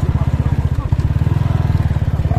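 A 125cc motorcycle rides through town streets, its engine chugging in a steady, fast, throbbing pulse close up and loud, with a brief dip in the rhythm midway.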